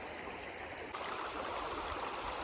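Water rushing through a 6-inch Gold Hog mini sluice while prospecting for gold, a steady close hiss and gurgle of flowing stream water that grows slightly fuller partway through, with no talking.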